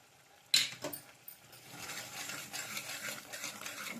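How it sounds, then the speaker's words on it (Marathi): Spices stir into an onion-tomato gravy for egg curry: a sharp metal clink opens, followed by a soft, steady scraping and sizzle from the pan at close range, with no voices. "हे मसाले ह्याच्यामध्ये व्यवस्थित मिक्स होऊ द्यायचे आहेत"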